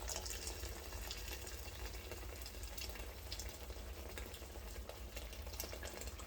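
Water runs steadily into a pot of browning goat meat for brown stew, a continuous broad trickle and splash heard close up with no talking.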